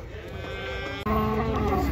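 Bulls at the Uzynagash livestock bazaar near Almaty, with a steady murmur of voices and animal calls mixed in, and a brief dropout partway through before the noise resumes louder.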